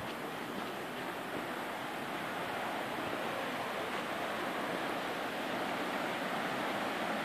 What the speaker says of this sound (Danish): Vi kan høre noget vand, der løber.